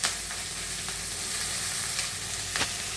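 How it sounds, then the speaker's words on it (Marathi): Bell pepper with gram flour and chopped coriander sautéing in a hot pan, a steady dense sizzle throughout with a few sharper crackles and spatters, close and fairly loud, with no talking. "आता हे सगळं परतून घ्यायचं छानपैकी"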